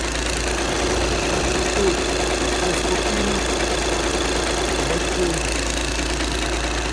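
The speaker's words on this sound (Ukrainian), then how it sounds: "Робота двигуна рівна, ідеальна." A steady, even car engine idle hums continuously, with a faint rhythmic knock or rattle from a worn flywheel underneath throughout; the car has about 300,000 km.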